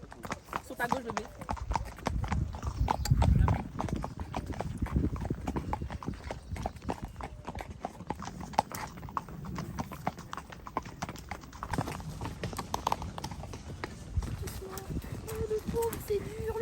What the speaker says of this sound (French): Ah, regarde les chevaux là-bas, ils sont blancs.